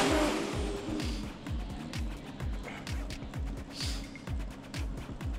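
A Super 6 four-wheel-drive drag race car rolls in at a street drag event, its engine giving a steady, rapid low pulsing idle-like throb, loud and close, with a faint announcer voice in the background.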